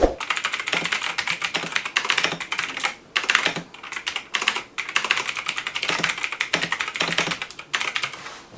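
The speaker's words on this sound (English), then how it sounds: "It has the Razer green switches, which are very clicky." Fast, continuous typing on a Razer BlackWidow Chroma V2 keyboard with clicky Razer green switches, a dense, close clatter of sharp clicks with brief pauses between bursts.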